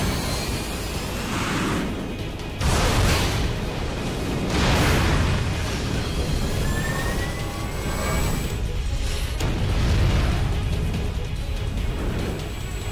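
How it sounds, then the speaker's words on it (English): Explosions in Final Fantasy X HD Remaster come as a loud, sustained roaring rumble with several swelling bursts, like heavy blasts rolling over one another, with no talk over them. "die Explosion ist überhaupt nicht übertrieben"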